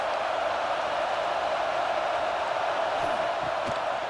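A football stadium crowd roars steadily at a college game between Becker State and Texas A&M, a loud, continuous wash of massed voices with no clear breaks or individual shouts.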